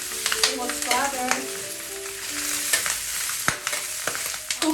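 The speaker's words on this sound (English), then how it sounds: "I'm gonna add the cut pieces into a hot wok. Be careful, it will splatter." Cut pork pieces for crackling sizzle and spit in a hot wok, a loud close frying hiss with sharp popping splatters throughout.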